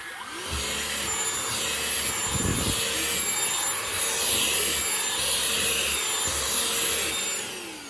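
A Shark Ultra Cyclone Pet Pro handheld vacuum runs steadily and loudly close by, its motor whine holding for the whole stretch while the nozzle brushes over a surface, with small bumps and knocks as it moves.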